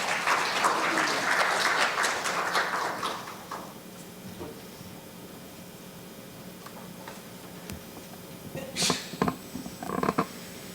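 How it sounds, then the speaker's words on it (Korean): An audience at a Korean lecture event claps to welcome the opening speaker: dense applause for about three seconds fades out, followed by quiet room tone and a few scattered knocks and shuffles. "박수로 맞이해 주시면 감사하겠습니다"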